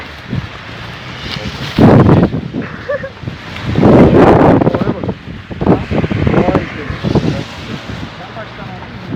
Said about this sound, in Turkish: ya çok rüzgar var ya büyük ihtimalle hiç seslerimiz gitmiyor